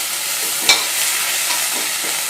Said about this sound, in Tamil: இப்போ எண்ணெய் காஞ்சிருச்சு, கடுகு போட்டுக்கலாம். கடுகு வெடிக்கட்டும்.